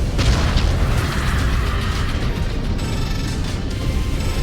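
Missile impacts in the Mechwarrior 5: Clans video game, a loud dense rumbling barrage of booms and blasts sustained throughout, with heavy low-end roar and no clear gaps.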